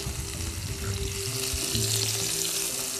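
Olive oil and halved tomatoes sizzling in a frying pan, a close, steady crackling hiss with a low hum beneath, continuous and without speech.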